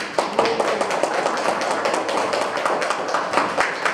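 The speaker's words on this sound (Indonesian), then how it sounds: "Nah, tepuk tangan untuk kita semua." Elementary school teachers at a Muhammadiyah study group meeting clap their hands together, a brisk, uneven patter of claps from a small group that continues steadily for a few seconds with no talking over it.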